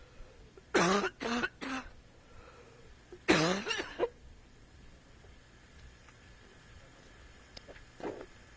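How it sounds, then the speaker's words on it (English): A person coughs in two close bursts, each made of several harsh hacks, followed by a softer single cough near the end, with quiet room tone between. "My mom hates when I cough."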